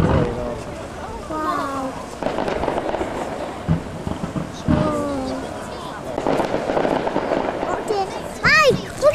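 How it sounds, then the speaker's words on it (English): Fireworks going off outdoors in Plymouth: repeated booming bursts with whistling and crackling trails, loud and close, while several excited voices talk and exclaim over them. "Look at all that coming off the fireworks"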